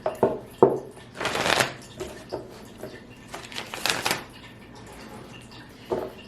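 Tarot cards are shuffled in several quick, papery riffling bursts, close up, with short pauses between them.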